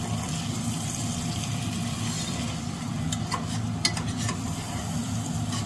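Chicken angara sautés in a pan in a hot kitchen, giving a steady, dense sizzle throughout, with a brief run of light scraping and clicking from stirring partway through, close and without speech.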